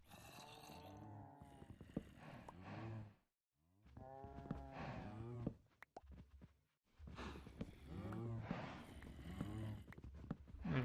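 Cows on a Minecraft farm, recreated by the game, give several long, deep moos in succession. The calls are close and drawn-out, separated by brief pauses, with no talking.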